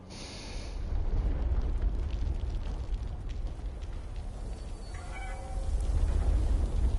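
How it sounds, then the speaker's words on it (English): A cat meows in Fallout 76, a short call rising briefly near the end over a loud, steady low rumble of game ambience. "Hello, kitty cat."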